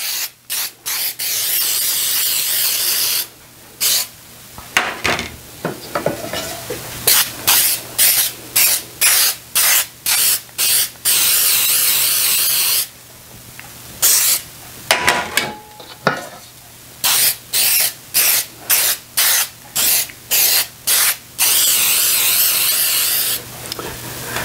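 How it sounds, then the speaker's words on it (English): Baker's Joy baking spray hissing onto cake pans in many short bursts, some longer sustained sprays and clusters of quick repeated pumps, loud and close with brief silences between. "I'm going to spray each one of them with this Baker's Joy"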